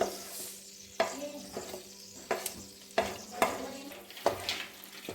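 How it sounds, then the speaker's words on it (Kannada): Turmeric and chili powder sizzle in hot oil in a pan for a cashew masala curry, a steady close frying hiss broken by several sharp spoon scrapes and stirs. "ಕಾಯ್ದ ಎಣ್ಣೆಗೆ ಸ್ವಲ್ಪ ಅರಶಿನ ಪುಡಿ ಖಾರಕ್ಕೆ ತಕ್ಕಷ್ಟು"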